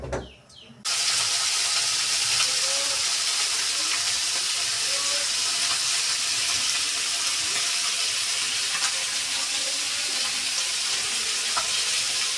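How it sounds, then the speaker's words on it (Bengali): Fish fry in hot oil in a wok in a home kitchen on a stormy, rainy day, a loud steady sizzle that starts abruptly and continues alone without pause. "এখন মাছগুলোকে ভেজে নেবে সুন্দর করে।"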